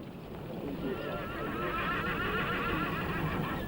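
Horses whinny and neigh in a Western town setting while hooves clip-clop steadily beneath, a continuous close, moderately loud mix with some background murmur.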